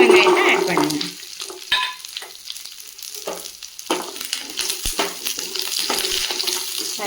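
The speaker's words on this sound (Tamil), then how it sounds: "கருவேப்பிலை பொரிஞ்சோன்னே நம்ம உரிச்சு வச்சுருக்க சின்ன வெங்காயத்தை ஆட் பண்ணுங்க" Shallots added to a pan of fenugreek and curry leaves frying in oil for pachai milagai puli mandi, a close, loud sizzle that rises and falls as they are stirred, with scraping and clinks.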